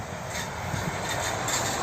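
A passenger airport train hauled by an ST44 diesel locomotive, number 1240, rumbling past near Warszawa Zachodnia, a steady, fairly loud roar with faint rhythmic rail clatter throughout.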